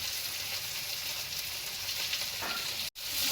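Egg bhurji with chilli and salt frying in a pan, stirred to mix; a steady bright sizzle and soft scraping throughout, ending in a brief cut of silence.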